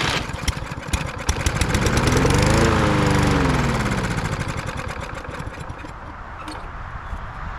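Lawn mower engine running on a bench during carburetor repair, loud and close, revving up and sagging back with a rough, uneven throb before settling toward a steadier idle, no talking.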